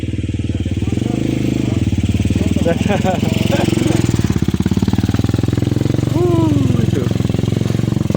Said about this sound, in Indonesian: Oke, motor nanjak.